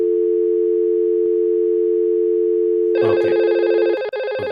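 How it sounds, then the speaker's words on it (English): A desk IP phone in a routed dial-peer setup plays a steady dial tone for about three seconds, then switches to a louder, brighter ringback as it calls another extension, with a brief spoken word near the end. "I'm trying to ring this phone from the other side"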